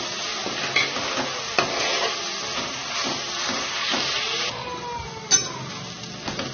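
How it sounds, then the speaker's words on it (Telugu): Green chillies and curry leaves fry in a pan with a loud, steady hiss and sizzle, punctuated by a few scraping stirs and one sharper clink near the end. "దీనిలో పొడుగ్గా చిన్న చిన్న పచ్చిమిర్చి పచ్చిమిర్చి వేసుకోవాలి అలాగే కరివేపాకు కూడా వేసుకోవాలి ఇదంతా చక్కగా వేయించుకోవాలి"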